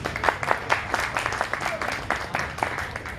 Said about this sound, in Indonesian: tepuk tangannya kita semua.